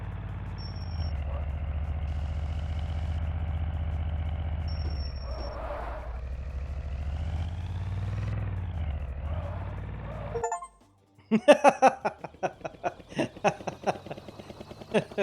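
A vehicle engine in the video game Prison Escape Simulator drones steadily and loudly for about ten seconds, then cuts out abruptly before a burst of sharp, choppy sounds.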